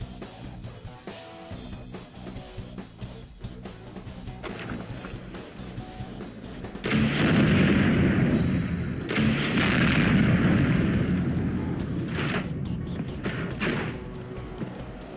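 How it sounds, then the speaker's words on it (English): Incendiary launcher modelled on the M202 flash firing in Fallout 4, giving heavy booming blasts and a roaring burning wash that swells loud around the middle, with a sharp burst and rumbling tail following. "the Incendiary launcher, inspired by the iconic M202 flash that was used by John Matrix in Commando"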